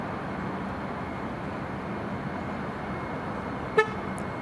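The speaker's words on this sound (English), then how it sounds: "every time you lock the vehicle, it will make this sound again" A single short horn chirp from a Nissan Sentra (2020-2025) as it locks with the smart key fob, sounding once near the end over a steady low background hum.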